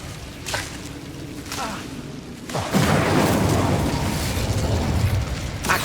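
Incendio fire spell cast in Hogwarts Legacy: a few quick bursts, then a loud roaring blast that swells and keeps crackling for several seconds, close and full.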